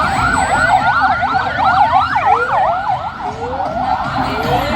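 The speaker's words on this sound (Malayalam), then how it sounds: "അപകടത്തിൽപ്പെട്ട രോഗിയുടെ ജീവൻ രക്ഷിക്കാൻ ചീറിപ്പാഞ്ഞ് ആംബുലൻസ്." Ambulance racing a patient along a road near Pookkottumpadam, Kerala, its siren wailing in fast overlapping up-and-down sweeps, loud and close over rumbling traffic, then easing slightly as it passes.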